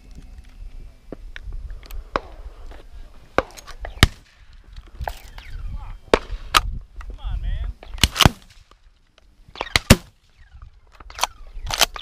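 Shotgun blasts from a dove hunt ring out in an irregular series, some close and loud, others distant and softer, with low outdoor rumble and voices talking between shots.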